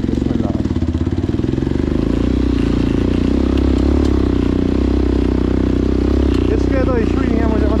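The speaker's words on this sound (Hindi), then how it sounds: "ये मैंने दूसरा गियर डाल दिया, अब ये बाइक दूसरे गियर में डाल दिया।" Motorcycle climbing an off-road mountain track at Baboon Top in Pakistan, its engine droning loud and close in a low gear, with a steady throb throughout and the rider's voice cutting in briefly near the end.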